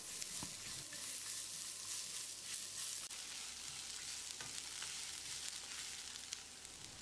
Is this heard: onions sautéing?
yes